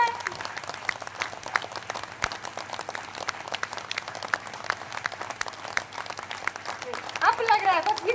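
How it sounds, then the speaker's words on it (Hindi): Audience applause at a hero celebration event, many hands clapping in a steady dense patter that swells louder near the end, with a voice speaking over the clapping. "सिंपल डेमो मिल गया ना ताली का"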